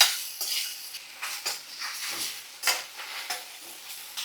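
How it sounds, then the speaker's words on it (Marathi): Okra frying on a high flame, with a crisp sizzle punctuated by repeated spatula scrapes and clinks against the pan at a fairly regular pace, close by. "भेंडी भाजताना मोठ्या आचेवर भाजायची, कमी गॅस करू नका"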